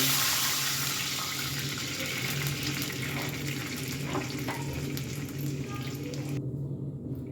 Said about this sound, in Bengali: এবার এর মধ্যে দিয়ে দেব আড়াইশো এম এলের মতন জল